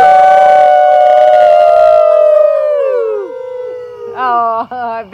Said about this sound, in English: We're going to howl as loud as you can